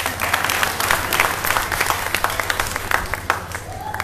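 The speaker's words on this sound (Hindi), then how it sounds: "तालियां बजा दो भाई।" Crowd at a Hindu devotional gathering claps together, a steady mass of applause with some distinct individual claps, fairly close and loud for the whole stretch.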